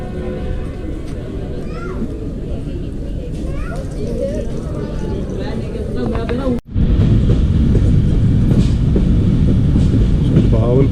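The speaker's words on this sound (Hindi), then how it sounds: "भावलपुर से डिपार्ट हो रही है अभी 40 डाउन जाफर एक्सप्रेस" The 40 Down Jaffar Express pulls out of Bahawalpur railway station, a steady loud rumble of rolling stock with clatter throughout, briefly cut midway, while people talk over it.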